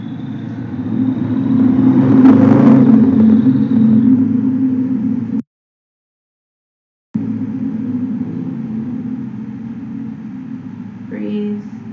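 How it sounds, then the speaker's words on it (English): A motorcycle passing outside a window in Spain, a low engine rumble swelling and fading in the background, heard indoors and partly masked by a calm voice speaking over it. "If you hear a motorcycle, it's outside my window."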